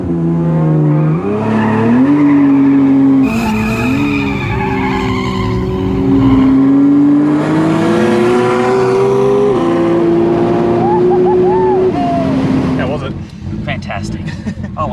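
Two Toyota Camrys launch side by side at a no-prep drag race, with loud, screeching tire squeal over wailing, revving engines that shift pitch repeatedly through the run, and voices shouting faintly near the end.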